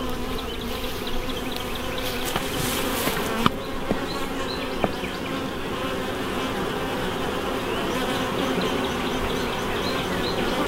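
Honey bees crowd a small hive entrance, and their dense, steady buzzing holds close and loud throughout, with occasional individual bees zipping past near the microphone.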